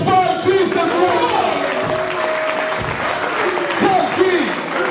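An audience at a music and entertainment show applauds and cheers in a steady, loud wash of sound while a voice speaks over the crowd throughout.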